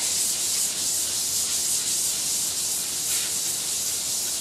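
Wet/dry sandpaper, 400 grit, sanding clay on a homemade clayboard, producing a continuous close rasping scrape with a gentle back-and-forth swell and no talk.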